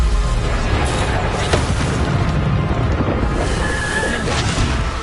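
A Bombarda blast spell from a Harry Potter video game erupts in a loud, rumbling boom, a dense low explosion with sustained crackling debris that fills the whole stretch.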